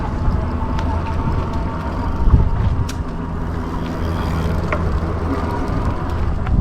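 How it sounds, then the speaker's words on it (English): Rad Power RadMini e-bike cruising in pedal assist 2, sixth gear: a loud, continuous rolling rumble of wind and tire noise with a brief louder swell partway through, and no voices. "I have it in pedal assist 2 right now, just cruising, 6th gear"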